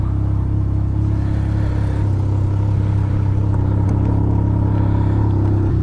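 A Can-Am Ryker three-wheel motorcycle's engine drones loud and steady while riding on a nice day, a constant low rumble with no talk over it.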